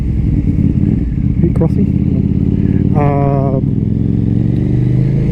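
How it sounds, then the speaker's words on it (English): A KTM Duke 890R motorcycle riding on a cold morning, a loud steady engine drone with road and wind rumble throughout, and a brief spoken word over it. "So it's fun to be back on the bike."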